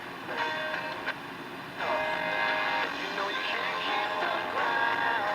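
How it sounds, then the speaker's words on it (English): Country music from a station received on a Sony ICF 200W radio, buried in steady hiss and crackly reception noise, with faint tonal melody lines running continuously. "Sounds like a country station."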